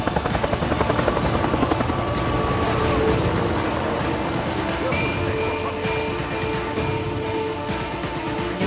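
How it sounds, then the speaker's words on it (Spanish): A helicopter approaches in the Days Gone video game, its loud, steady rotor chop and engine whine filling the whole stretch close up. "¡Helicóptero!"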